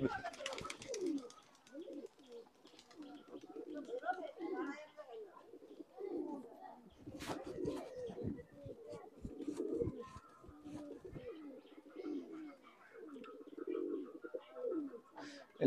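Benaras pigeons in a Khulna loft coo over and over, with low, rolling calls that overlap in a steady, close chorus, mixed with faint chirps and scattered clicks throughout.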